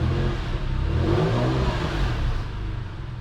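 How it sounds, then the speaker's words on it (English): A Porsche engine that runs rich, running close by with a steady mid-pitched drone that swells into a rev and eases back, with no talking. "the car's running absolutely great. Runs rich, this car."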